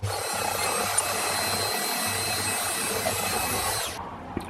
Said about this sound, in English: drill a couple of holes in here.